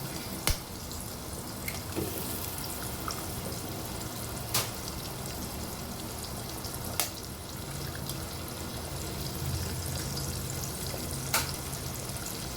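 Three eggs fry in a pan over softened onions with a steady, hissing sizzle, broken every few seconds by a sharp tap of a spatula as they are scrambled.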